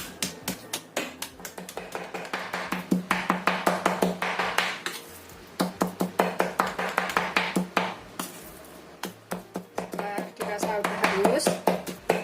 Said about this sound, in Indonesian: Ini kita cincang halus.